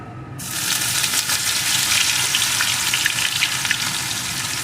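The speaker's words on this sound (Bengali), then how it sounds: "আদাটাকে একটু ভেজে নেব" Crushed ginger frying in hot oil with tempering spices for a vegetarian chorchori, a loud, steady bright sizzle that swells right after a quiet start and holds throughout.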